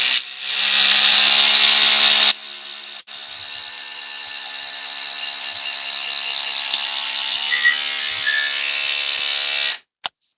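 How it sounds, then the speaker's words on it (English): A Milwaukee Surge 12-volt impact driver drives a screw into wood, a loud steady high-pitched whir with a harsher burst at the start, running continuously for about ten seconds before stopping abruptly. "This is the surge 12-volt impact."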